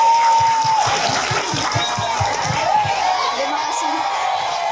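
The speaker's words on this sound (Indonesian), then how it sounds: "Tepuk tangan dulu untuk Alim" Audience clapping for a young participant named Alim at a religious talk on the month of Muharram, a steady dense patter of many hands with light crowd murmur, fairly close and lively throughout.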